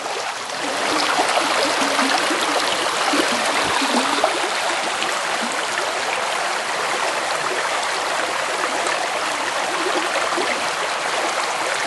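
A creek flows steadily nearby in a broad, even wash of babbling water with no voices, a constant close rush lasting throughout.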